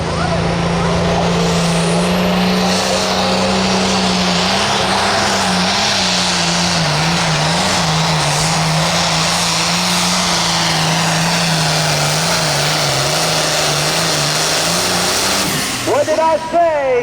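A hot farm tractor roars at full throttle during an NTPA tractor pull at the Rush County Fair in Rushville, Indiana, a loud continuous engine drone with slight pitch wobble that fades at the end.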